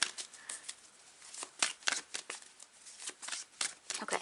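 Tarot cards are shuffled repeatedly up close, a quiet stream of crisp riffling and sliding bursts in an uneven rhythm, with no voices.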